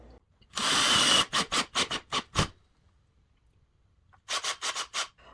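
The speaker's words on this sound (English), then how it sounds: "So now everything is cut and in position, so let's get screwing it all together." Countertop pieces are fastened together with a screw driver, which makes one long burst of whirring followed by short rapid bursts, a pause, then another run of short bursts, all close by.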